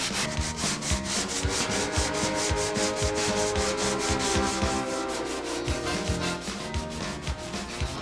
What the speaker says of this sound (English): Use a sanding block and 36 or 40 grit sandpaper to smooth and shape the filler